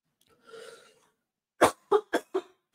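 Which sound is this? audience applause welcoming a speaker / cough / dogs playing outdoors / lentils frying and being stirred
cough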